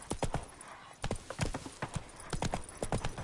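Roach the horse gallops in The Witcher 3, rapid rhythmic hoofbeats clattering close and loud in uneven clusters throughout.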